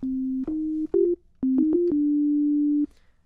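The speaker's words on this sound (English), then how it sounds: "the first thing that pops up is a sine wave" A pure, hollow synthesizer sine wave tone plays a short sequence of steady notes, stepping between pitches before one long held note stops abruptly.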